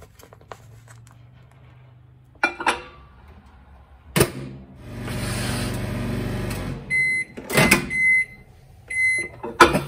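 A microwave oven hums steadily as it reheats a lunch of rice with minced beef, with clicks and handling noises around the door, then a series of short electronic beeps near the end.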